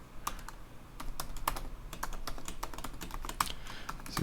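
Rapid typing on a computer keyboard while coding a Ruby on Rails app, crisp clicks coming in quick uneven bursts, close and fairly loud, alone without any voice.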